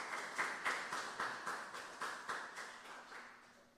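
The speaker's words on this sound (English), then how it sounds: "Give him a round of applause" Quiet, steady clapping from a small lecture audience welcoming a speaker at a festival evening lecture, regular claps repeating evenly before tapering off.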